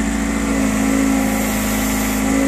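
An excavator with a rock drill attachment runs steadily while its bucket is worked by joystick, a continuous droning engine hum with a strong low tone, loud and close, with no talking.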